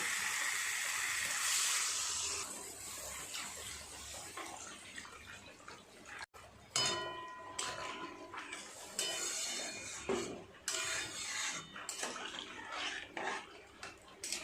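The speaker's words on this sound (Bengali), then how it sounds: "এবার পরিমাণ মতো জল দিয়ে দেব।" Water pours from a tap or vessel into a pot of spiced potatoes, a loud rushing stream at first that stops abruptly, followed by clinks of utensils against the pot and softer splashing.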